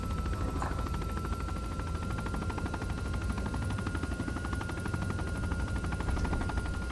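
Steady rotor and engine drone of a Russian Ka-50 coaxial attack helicopter in a video game, continuous and fairly loud for the whole stretch, with faint rapid gunfire-like rattling underneath.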